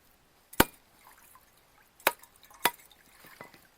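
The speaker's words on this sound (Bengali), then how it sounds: "এইবার নারকেলটাকে ফাটিয়ে নেব।" A coconut is struck open, giving three sharp cracking blows spaced apart, the first loudest, with faint small knocks between them and no talk.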